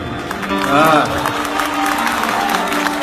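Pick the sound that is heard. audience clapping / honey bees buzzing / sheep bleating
audience clapping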